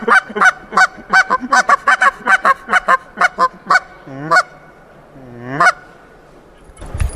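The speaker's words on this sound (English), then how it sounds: "Okay, now we go to goose next." A handmade goose call blown close and loud in a rapid run of honks, then two drawn-out, rising clucking notes, with no talking.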